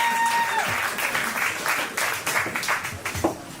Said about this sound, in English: Y'all start clapping for Ricky Murphy, ladies and gentlemen